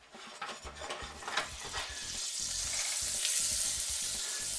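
A pat of butter melting and sizzling in oil in a pot for potato soup, a soft hiss that builds and steadies, with light scraping and stirring clicks early on, close and fairly quiet.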